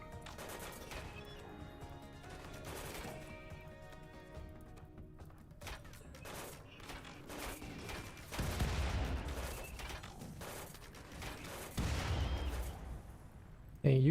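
Combat shotgun fire in a heavily modded video game: scattered sharp blasts and impacts over a busy game background, with heavier low booms near the end.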